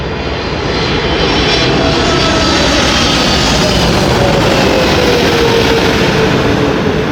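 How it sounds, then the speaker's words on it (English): Thai Airways Boeing 777-300ER jet engine at Delhi Airport, a loud steady roar with a faint falling whine, continuous and close throughout. "So as there's the 777-300 ER of Thai Airways from Bangkok"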